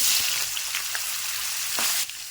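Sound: paneer frying in ghee in a pan

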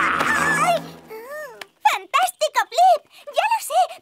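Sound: imitated tiger roar in a cartoon

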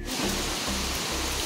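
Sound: heavy rain with wind

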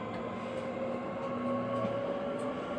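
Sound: National Rail train running

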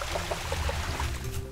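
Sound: water being collected in Travellers Rest video game

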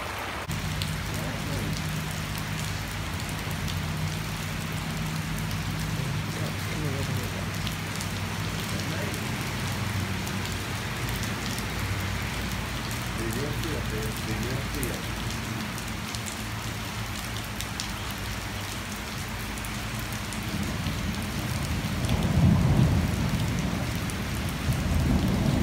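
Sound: rain falling with thunder

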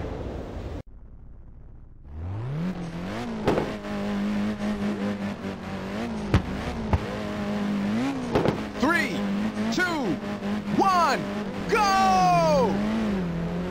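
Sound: race cars starting a race in video game Ridge Racers 2

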